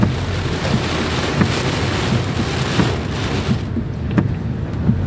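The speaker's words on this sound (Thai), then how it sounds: "สภาพฝนตก เป็นช่วงที่ฝน ลงใหม่ ๆฮะ" Heavy rain pouring steadily in Rangsit, Thailand, in a dense, loud hiss that drums on surfaces, continuous throughout with no voices.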